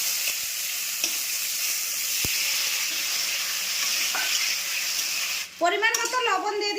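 Chopped tomatoes hit hot mustard oil tempered with dried red chillies and bay leaves, producing a loud, steady sizzle with a few sharp pops. A voice starts talking over the frying near the end.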